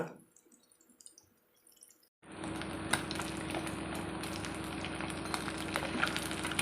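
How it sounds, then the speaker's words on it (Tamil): Nethili anchovies for fish 65 are dropped into hot oil: after a couple of near-silent seconds, a loud, steady frying sizzle erupts and continues with scattered pops. "இந்த மாதிரி போட்டு அழகாக பொறிச்சு எடுத்துடலாமா"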